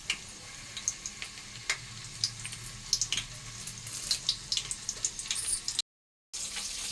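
Mustard seeds, crushed garlic and curry leaves frying in oil for pappu charu, a soft sizzle dotted with sharp popping crackles. The sound stops briefly near the end, then picks up again.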